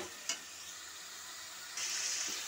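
Meat with turmeric powder fries in a pan, a soft continuous sizzle with a brief knock early on, then the hiss swells louder for the last stretch.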